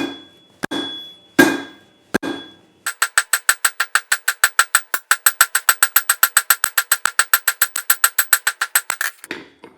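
Hammer strikes on hot steel while forging a square punch at the anvil: a few heavy, spaced ringing blows, then a long fast steady run of sharp metallic hits with bright ringing overtones, loud and close.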